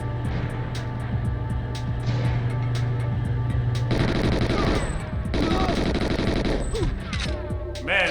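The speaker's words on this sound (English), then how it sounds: "I have no idea who's shooting at me." Gunfire rattles continuously in Goldeneye XBLA, dense automatic bursts and repeated shots layered over game music and effects, steady and fairly loud throughout.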